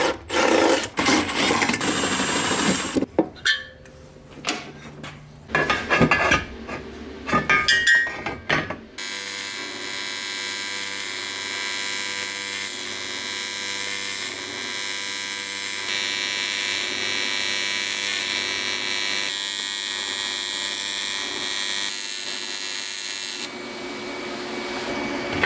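Welding on a Nissan Cefiro with a turbo K24 swap. The clip opens with clanks and shuffling from the work, then a sustained crackling, hissing arc runs steadily and close for over fifteen seconds before cutting off.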